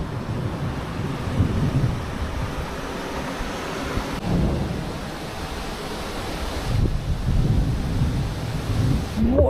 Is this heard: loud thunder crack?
yes